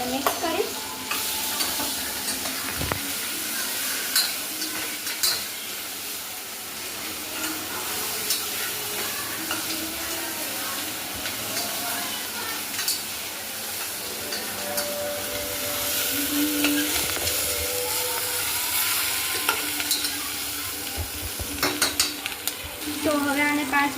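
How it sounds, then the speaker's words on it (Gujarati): Garlic, carrot, tomato and onion sautéing in a pan for vaghareli khichdi: a loud, continuous close sizzle with frequent stirring scrapes and clinks of the spoon. "જો હવે હું નાખીશ આ લસણ, ગાજર, ટમેટા અને ડુંગળી."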